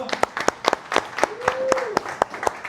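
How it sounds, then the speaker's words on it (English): Audience at a networking and knowledge event clapping for a sponsor, about a dozen sharp separate claps at an uneven rhythm, close by, with a brief voice in between. "Everybody clap your hands, y'all."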